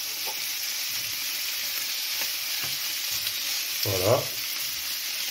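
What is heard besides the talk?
perugine sausages browning in a pan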